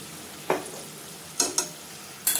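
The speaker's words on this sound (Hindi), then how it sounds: "इन सभी चीज़ों को चला लेते हैं।" Four sharp scraping strokes stir veg manchurian gravy with soy sauce and vinegar in a hot pan. Each stroke stands out clearly over a low, steady sizzle in the background.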